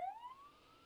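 Ambulance siren from the Emergency 4 Boston mod game, a single rising wail sweeping upward and holding steady, fairly clear and alone with no talk over it.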